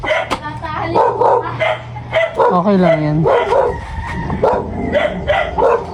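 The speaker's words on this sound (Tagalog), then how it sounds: "Ang dami nilang aso." Several dogs bark and yip repeatedly nearby, overlapping with a whine, while people talk over them.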